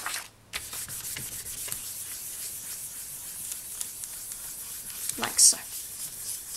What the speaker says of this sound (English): Then we're going to burnish that so that it's all nice and smooth.